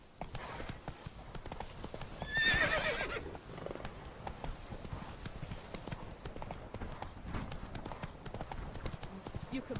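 Horse hooves pounding in a galloping clip-clop rhythm in the video game The Witcher 3, with a brief whinny early on and a spoken line over the steady hoofbeats.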